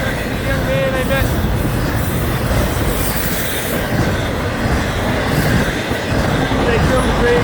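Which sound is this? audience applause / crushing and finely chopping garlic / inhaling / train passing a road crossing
train passing a road crossing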